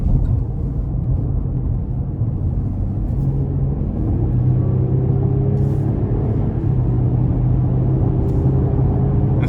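2020 GMC Canyon SLE Elevation Edition 2WD pickup truck cruising on the interstate, a steady low engine and road rumble filling the cabin with faint higher tire hiss.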